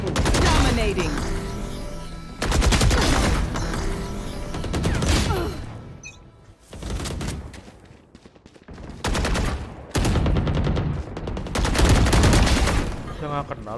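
Sustained bursts of automatic gunfire in the video game Valorant, loud rapid volleys in several long strings separated by short gaps, with voices talking over parts of it.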